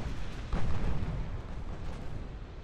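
Naval gunfire in a 1920 battle in Ultimate Admiral Dreadnoughts: a single deep boom lands about half a second in, then rolls into a rumbling tail over a low, continuous background.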